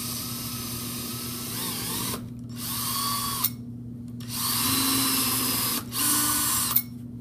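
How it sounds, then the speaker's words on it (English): An electric drill bores through a pine board, sounding as a sustained whining drone with a steady hum that drops out briefly a few times between bursts, close and fairly loud with no talking. "I'm going to drill this straight up and down without moving the drill"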